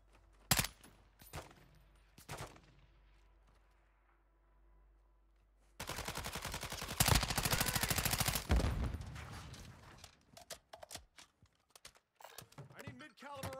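Gunfire in Call of Duty: scattered single shots, then a long, loud burst of rapid automatic fire, then more broken shots and clatter.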